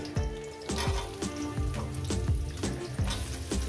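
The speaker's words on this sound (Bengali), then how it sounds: "এইটা আমি মিনিমাম পাঁচ মিনিট এটাকে সবজিটাকে ভেজে নেব" Taro and vegetables fry in hot oil for a fish-head curry with a continuous close sizzle, broken by regular scraping clanks of a spatula stirring the pan.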